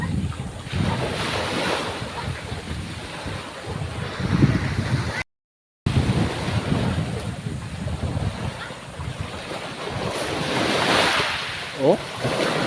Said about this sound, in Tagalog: Alam mo yung hampas ng tubig, ano? Sa baybay, sa bato. Marinig mo talaga.